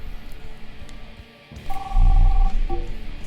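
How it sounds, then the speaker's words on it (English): A telephone rings in the Rising Star 2 music management video game, a short warbling electronic ring cutting in over a low background hum after a brief quiet gap, with no speech. "I'm getting phone calls from people."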